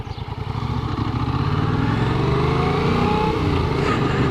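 A motorcycle being ridden, its engine droning loud and close as it builds from a lower note and holds a steady, rising pitch throughout.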